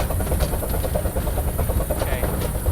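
A Romney, Hythe and Dymchurch Railway steam locomotive runs along, a steady close rumble with a quick rhythmic chuffing and clatter, heard from the footplate.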